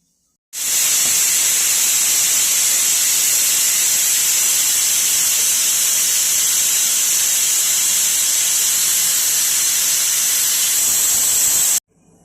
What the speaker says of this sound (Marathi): ही एक शिट्टी घेतली मी कुकरची